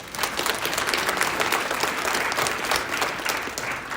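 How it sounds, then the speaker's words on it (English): A room of people at a volunteer training session claps for a speaker, brisk uneven applause at moderate volume lasting the full few seconds without talk. "Let's clap it up for Luke."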